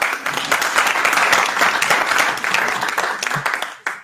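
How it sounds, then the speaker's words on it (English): An audience at a small business pitch gathering breaks into applause, a full, fairly loud burst of many people clapping for about four seconds before it stops abruptly. "A round of applause."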